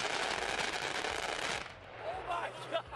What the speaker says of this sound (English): If the Murderhog gets your ass with the Avenger cannon